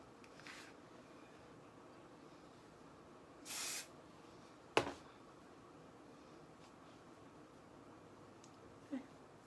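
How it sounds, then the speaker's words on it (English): Hairspray sprayed onto a wig as one short hissing burst about midway through a very quiet stretch, followed by a couple of faint clicks. "And then I cover my face and spray."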